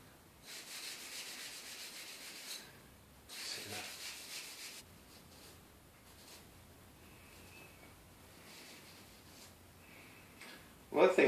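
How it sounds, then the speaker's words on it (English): A scouring pad loaded with linseed oil rubs against oak turning on a lathe, making bursts of soft scrubbing friction that swell and fade, with a louder knock at the end. "this scouring pad's actually holding quite a bit of linseed oil in it"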